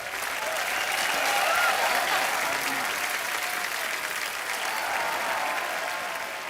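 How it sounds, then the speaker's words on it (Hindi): Studio audience on The Kapil Sharma Show applauds steadily for the whole stretch, a dense, even wash of clapping that swells slightly partway through, with no speech over it. "एक बार जोरदार तालियां मुबारका की पूरी टीम के लिए"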